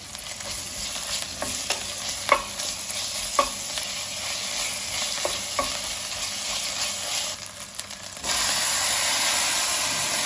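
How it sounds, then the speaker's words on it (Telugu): Onions frying with ginger-garlic paste for a Telugu-style ridge gourd and peanut curry, stirred with a utensil that scrapes and taps the pan several times over a steady sizzle, close and moderately loud with no talk. "కొద్దిగా ఉల్లిపాయ కొంచెం వేగాలి."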